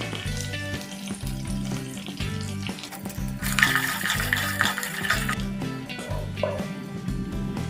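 Garlic pieces, ginger paste, curry leaves and turmeric fry in an electric rice cooker while making pongal, a soft sizzle mostly masked by steady background music that grows a little brighter midway.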